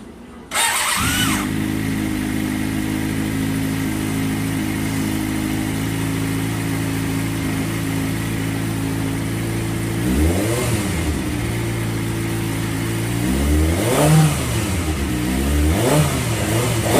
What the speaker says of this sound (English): now I'm going to start my bike and I'm going to rev it